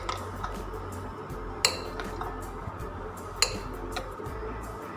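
A spoon stirs raita with salt and chaat masala in a bowl, giving a few sharp, close clinks against the dish over a quiet room hum.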